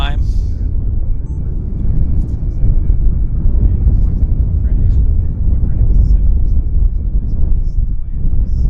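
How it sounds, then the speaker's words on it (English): A Boeing 787 Dreamliner passes at Vancouver Airport in strong winds, a loud continuous engine roar blended with heavy buffeting wind noise on the microphone throughout. "it's Dreamliner time"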